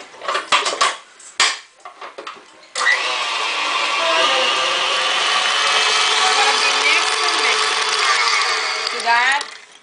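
An electric mixer whirs steadily through hummingbird cake batter as butter is blended in, after a few clinks of utensils against a bowl; someone talks over the start.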